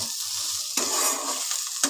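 Pui mituli (Malabar spinach stems) stirred and frying in a pan, a steady close sizzle with scraping stir strokes bursting louder partway through, no voices.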